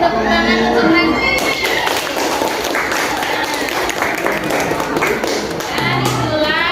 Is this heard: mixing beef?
no